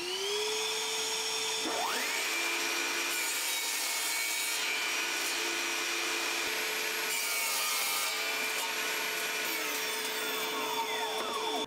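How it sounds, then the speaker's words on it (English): A table saw with a miter gauge cutting small wood pieces for a toilet roll holder, the motor whining steadily as the blade bites through several short cuts, loud and close. "So I'm going to go back to the table saw with the miter gauge and get those cut."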